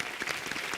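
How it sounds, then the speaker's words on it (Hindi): An audience claps for a poet on a televised Hindi poetry show, a brief, fairly quiet patter of applause with no voices over it. "कविराज के लिए तालियां।"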